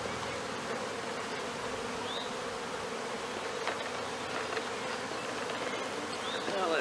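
A dense swarm of honey bees buzzes continuously up close during a hive varroa mite check, a thick, even drone with occasional individual wingbeats flitting past.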